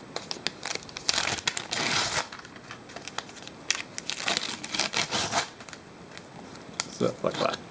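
A Spice Girls photograph pack wrapper from 1997 is torn and crinkled open up close, with bursts of crackly plastic rustling and tearing that stop and start across the clip.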